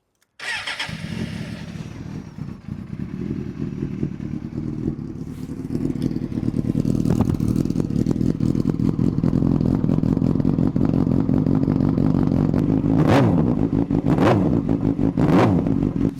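A Suzuki GSX-R motorcycle engine cranks and fires, then settles into a loud, steady idle close by with a few sharp revs near the end.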